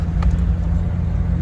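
A Toyota HJ61 4x4 climbs a snowy road in first gear, its engine a steady low rumble close by, with a faint click or knock near the start and no talk.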